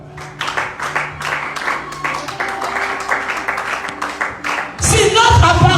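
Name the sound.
congregation applauding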